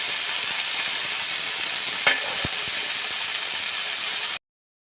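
Food fries in a pan with oil, giving a steady, close hiss and crackle throughout, broken by a brief clink near the middle, with no voices.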